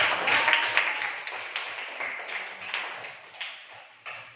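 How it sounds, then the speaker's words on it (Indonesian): Scattered applause from a classroom of students, a dense patter of many hands clapping that swells briefly and then gradually thins out over a few seconds. "beri tepuk tangan untuk bisa"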